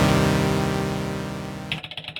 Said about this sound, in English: That creates a minor chord.